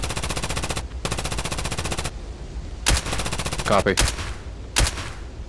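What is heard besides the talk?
gunfire in a video game firefight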